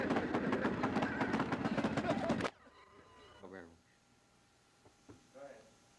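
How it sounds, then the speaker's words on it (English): The American Freedom Train arriving in Emporia makes a loud, rhythmic rumbling clatter for about two and a half seconds, then cuts off abruptly, leaving quieter background noise and brief faint voices. "The American Freedom Train has finally arrived in Emporia."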